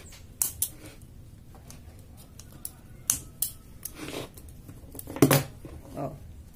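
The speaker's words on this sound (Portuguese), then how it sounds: "cortar aqui o cordão" Scissors snip through a cord while a concrete pumpkin-shaped planter is being made, a few sharp close cuts scattered over several seconds with quiet pauses between them and no talking.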